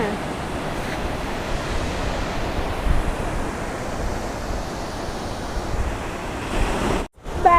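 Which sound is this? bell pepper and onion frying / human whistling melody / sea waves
sea waves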